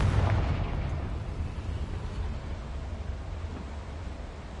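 A Confringo fire-blast spell from Hogwarts Legacy bursts with a heavy low boom at the start, then trails off into a steady, broad rushing roar that lasts several seconds.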